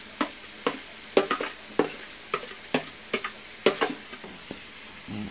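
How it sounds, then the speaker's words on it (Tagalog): Chicken intestines (isaw) sautéing in a pan, with a spatula tapping and scraping in an uneven, repeated rhythm over a steady low sizzle, close by and with no talking. "Igisa lang natin ng konti."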